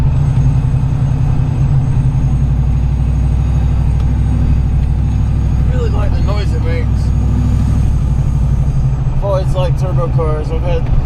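A procharged Chevrolet Trailblazer SS engine cruising, with a loud, steady low drone and rumble from inside the vehicle throughout, while a person speaks briefly over it in the second half.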